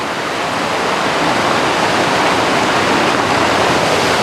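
Pitskönkä waterfall on the Lemmenjoki river roars in a loud, steady, unbroken rush of falling water heard up close, with no voices over it.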